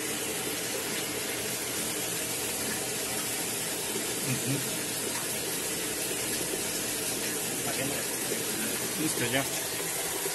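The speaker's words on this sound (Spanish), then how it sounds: "Miren la cantidad de agua que sale." Water pours steadily out of the transmission area of a Mabe washer-dryer with a shifted shaft seal, a continuous close splashing hiss while a person briefly murmurs over it.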